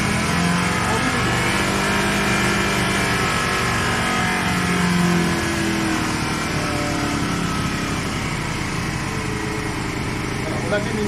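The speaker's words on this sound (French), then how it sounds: "la moto démarre, pas de ralenti, c'est normal, pas de vis de réglage." The carbureted 125 cc engine of a Jinlun JL125-11 chopper motorcycle runs continuously at a steady, buzzy high idle, loud and close, with only slight shifts in pitch as the throttle setting is adjusted.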